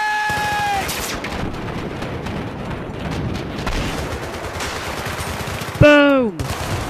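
Battlefield 3 video game gunfire: dense, continuous bursts of rapid shots form a loud, steady barrage. A brief whistling, falling tone cuts through near the end.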